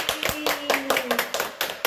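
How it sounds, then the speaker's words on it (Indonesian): Students in a classroom clap for a classmate who answered correctly, a brief burst of scattered, uneven hand claps close by, with children's voices mixed in. "Betul sekali, tepuk tangan untuk Yuri."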